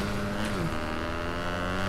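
A motorbike ridden in the video game Fortnite, a steady droning engine hum with a slight pitch shift, continuous and moderately loud with no talk.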